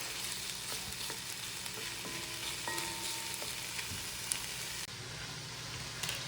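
Onions and garlic sizzle softly in a pan while being stirred, a steady faint frying hiss with occasional light scrapes, no voices.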